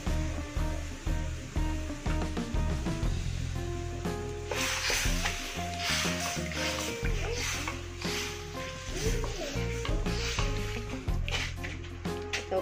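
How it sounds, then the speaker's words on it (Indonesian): Coconut milk sizzles and is stirred in a cooking pan, bubbling and scraping under steady background music. "Kemudian kita masukkan santannya."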